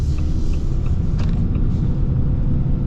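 An AEV Prospector XL truck pulling away in low range under light throttle, a steady deep engine rumble with road and drivetrain noise throughout, close and fairly loud with no talking.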